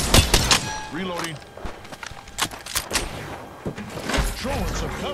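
Gunfire in the Apex Legends video game, rapid bursts of shots and sharp cracks scattered throughout, mixed with clanks and whooshing effects, with a voice talking over it.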